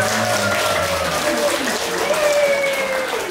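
An audience at a mental guidance session at a district health office in Brebes claps loudly and steadily throughout, a dense sustained ovation with a voice faintly audible beneath it.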